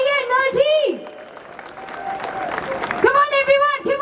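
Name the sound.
audience applause welcoming a guest on stage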